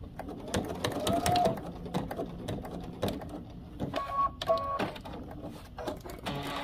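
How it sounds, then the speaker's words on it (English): A home sewing machine stitches a short run to secure a zipper end near its metal stopper while sewing a garment, giving bursts of rapid mechanical whirring with brief pauses, close and fairly loud. "And then just turn and stitch a bit."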